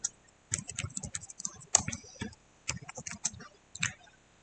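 Fingers type on a computer keyboard into a spreadsheet cell, producing a quick, irregular run of light, crisp key clicks with brief pauses, close and fairly quiet.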